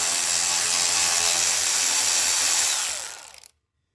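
Cordless ratchet spinning off 10mm fasteners on the air intake box of a Nissan Altima 2.5L, a loud steady whirring buzz for about three seconds that sputters and stops abruptly.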